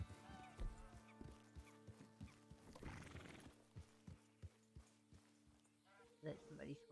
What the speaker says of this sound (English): That's somebody's horse.